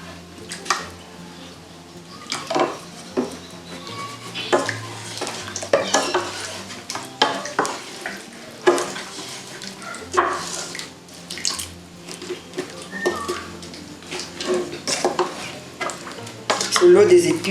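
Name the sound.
oil sizzling as catfish papillote is stirred in pot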